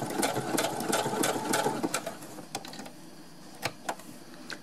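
A sewing machine runs a zigzag stitch on cotton for newborn mittens, a fast rattling burst of stitching up close that slows and stops, followed by a few isolated mechanical clicks.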